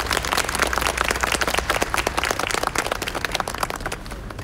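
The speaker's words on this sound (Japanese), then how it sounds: "それでは皆さん盛大な拍手でよろしくお願いいたします" Audience applause at a Sasebo festival stage as the Nagasaki Prefectural Sasebo Kita junior and senior high school wind band is introduced, a dense steady wash of many clapping hands, fairly near and continuous throughout.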